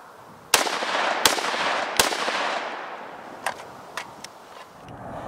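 Three unsuppressed 5.56 rifle shots fired outdoors at a suppressor test, each a sharp loud crack with a lingering rolling echo. Fainter distant reports follow.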